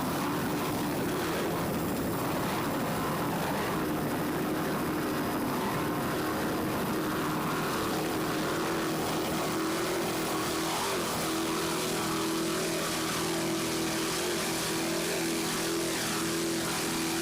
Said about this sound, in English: Just listen to those two 800 horsepower Zool racing inboards.